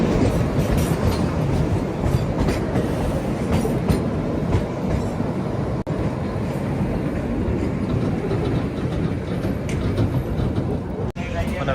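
The Himalayan Queen toy train on the Kalka-Shimla mountain railway runs with a loud, continuous rumble and clatter of wheels on track, heard close from inside the carriage with no speech.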